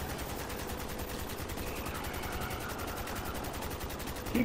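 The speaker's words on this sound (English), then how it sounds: "Keep shooting them." Rapid, sustained automatic gunfire from a Black Ops III Zombies match, a dense unbroken stream of shots at steady volume with no talk over it.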